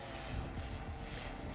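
DJI Matrice M210 drone coming down to land outdoors, a steady droning rotor buzz with a low rumbling hum, fairly close and continuous with no talk.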